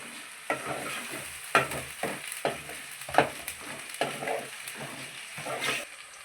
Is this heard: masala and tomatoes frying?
yes